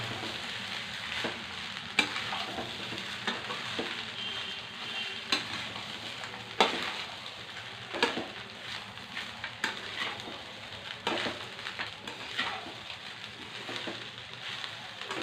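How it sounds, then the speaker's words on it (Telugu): Rice for mango pulihora is stirred and tossed in a hot pan, with a continuous sizzling hiss and repeated scraping spoon strokes at an irregular rhythm, close and moderately loud, with no voices. "మొత్తం కలిసేదాకా తిప్పుకోవాలండి."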